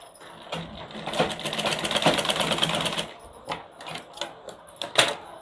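A double sewing machine stitches the seam of a blouse in a fast, buzzing run of needle strokes for about two seconds, followed by a few short bursts and clicks as the machine stops and starts.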